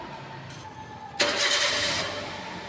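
A repaired car engine cranks briefly and catches, then settles into a steady, close idle that slowly eases down in level.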